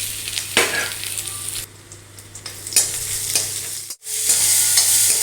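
Ginger, garlic, cinnamon, cloves and cardamom sizzle in ghee and oil for a radish gravy, a steady close frying hiss with stirring scrapes, briefly dropping out before surging back louder.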